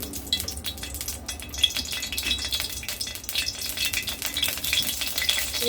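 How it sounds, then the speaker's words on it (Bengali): Whole bitter eggplants frying in oil, a continuous crackling sizzle with dense popping and occasional utensil scrapes, close and steady throughout, with no talking. "এগুলো এইভাবে গোটা গোটা ভেজে নেব দিয়ে দিচ্ছি তেল তেল দিয়ে দিচ্ছি"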